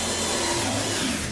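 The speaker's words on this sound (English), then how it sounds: "So I'll just take and drill this one for you." A power drill boring into a skirt board held in a jig, giving a steady, loud, continuous motor whine close by with no pauses and no speech.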